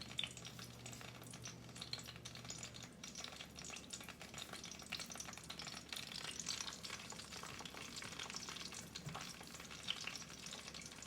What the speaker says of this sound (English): we're gonna drop our meat in and brown both sides